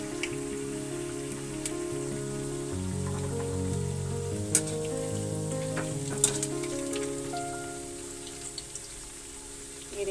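Soya chaap pieces fry in a pan for a restaurant-style dish, giving a steady close sizzle with scattered pops and crackles throughout, and no talking.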